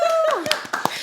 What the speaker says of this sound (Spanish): Hoy Un tenemos aplauso una virtual.